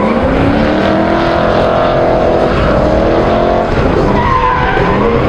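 A loud, high-revving V8 drift car engine roars and wails with rising and falling pitch at Rudskogen, tires squealing as it slides, sustained and close.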